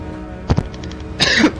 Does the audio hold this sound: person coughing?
yes